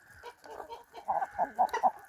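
Chickens cluck in short, repeated bursts while eating a mix of corn, wheat, barley and oat grain, growing louder toward the end over a faint background hum.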